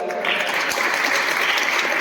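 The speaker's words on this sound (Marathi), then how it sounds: "टाळ्यांचा आवाज थोडा कमी होता थोडा अजून जोरात होता द्या" Louder, fuller clapping from a Women's Day audience, a thick continuous wash of many hands that swells slightly after the first moment and holds steady to the end.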